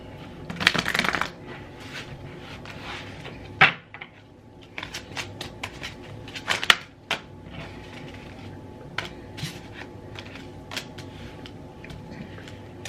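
Tarot cards being shuffled by hand, close and crisp, in repeated bursts of riffling and soft slaps separated by short pauses.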